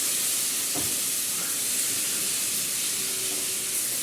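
Stuffed okra frying in oil hisses and sizzles in a continuous, even wash, with a soft knock or two as the pieces are turned in the pan.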